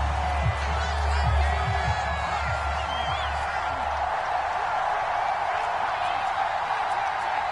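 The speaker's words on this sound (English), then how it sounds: "Plenty of shouts from this crowd as they watch the replay." A football stadium crowd shouts and roars in a steady, distant wash of noise, with a broadcast voice talking over it.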